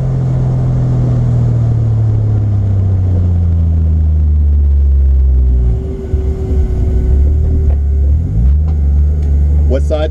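A Toyota Supra MK3 with a turbocharged 7M-GTE engine revs loudly up close, the pitch climbing and holding, then dropping and surging again under boost, with a voice cutting in briefly.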